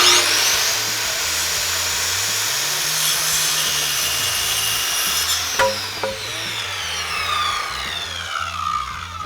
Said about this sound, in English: So all of our cuts have been made on all the studs.